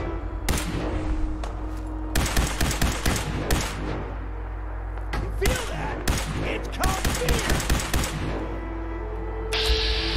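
America Rising 2, a Fallout game: rapid bursts of gunshots in dense clusters, loud and close, separated by short pauses, with a few single shots near the end.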